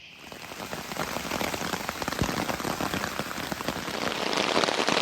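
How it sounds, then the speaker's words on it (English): Rain patters densely on a tarp over a hammock campsite at night, a constant crackling drumming that swells slightly louder toward the end, close and steady with no voices. "it's raining pretty good."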